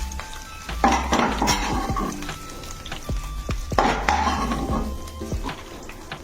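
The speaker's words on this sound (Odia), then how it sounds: "ସାରୁ ଆଳୁ ଟିକେ ଭାଜି ହେଇଗଲାଣି" Taro and potatoes frying in oil in a pan, with close spatula scrapes and clinks against the metal over a soft sizzle, in a few short bursts of stirring and no talking.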